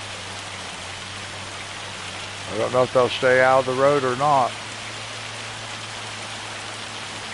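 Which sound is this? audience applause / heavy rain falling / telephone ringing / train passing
heavy rain falling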